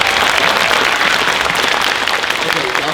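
Audience applause at a beginner band spring concert in a high school fills the room with loud, steady clapping from a crowd, close and continuous, with some voices mixed in.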